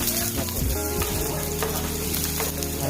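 Onions sautéing in a little oil with thyme, garlic and pepper, a steady close sizzle and crackle with a faint clink of stirring and a constant hum underneath.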